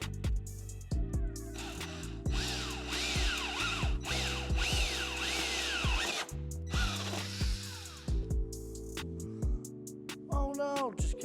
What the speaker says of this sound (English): we're just gonna make little pilot holes. And I'm gonna grab my step bit and widen it out